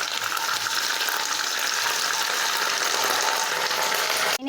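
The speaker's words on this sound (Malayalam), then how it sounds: "നന്നായി ഒന്ന് ഇളക്കി കൊടുക്കാം." Ginger paste fries in hot oil in a pan while being stirred, a loud, dense, continuous sizzle that cuts off abruptly at the end, with no voices.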